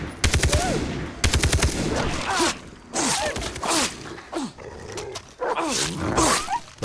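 Bursts of gunfire crack out in the video game Far Cry 3, two rapid automatic volleys followed by loud snarling, yelping dogs that growl and bark repeatedly in close, intense bursts.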